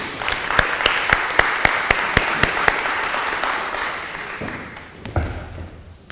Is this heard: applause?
yes